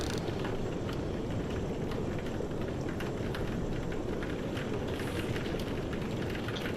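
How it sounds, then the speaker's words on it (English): Steady rain in the horror game Bonanit demo, a constant dense hiss of falling drops with a low rumble underneath, even and unbroken from start to finish. "Sounds like it's raining and somebody is snoring."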